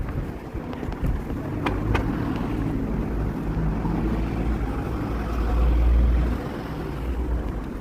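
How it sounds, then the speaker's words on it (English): Strong wind buffets the microphone in a steady low roar, swelling louder for a moment, with no voices. "It's fucking windy. There's another storm coming."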